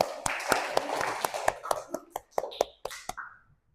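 A class in an Indonesian school claps for a group, with several sharp, irregular hand claps close by that thin out toward the end, and a faint voice in the background.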